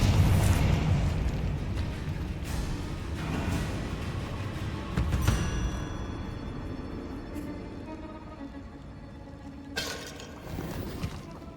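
Fiery spell explosions from the Confringo curse in Hogwarts Legacy, a dense rumbling blast at the start followed by crackling bursts and a sharp flare midway, then a lingering magical ringing tone and another burst near the end.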